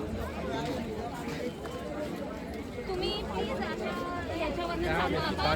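Thick, steady murmur of a packed crowd at the Lalbaugcha Raja Ganpati pandal in Mumbai, many voices blending into a dense babble that swells slightly toward the end.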